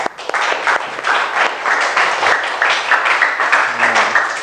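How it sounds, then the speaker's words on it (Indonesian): A classroom audience claps for a presenting student group, steady dense applause sustained at close range for several seconds with no voices over it. "please give applause to the first group"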